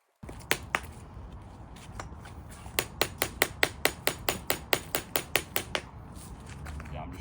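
Repeated hammer blows on a steel chisel cutting Indian sandstone paving slabs, about fifteen sharp, evenly spaced metallic strikes close to the mic, with a few scattered taps first and low outdoor rumble underneath.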